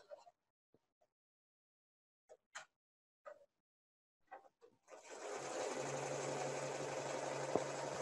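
An Avance embroidery machine stitches 3D embroidery on a cap, starting after a few faint knocks and settling into a steady, fast, rattling stitch drone that runs on alone.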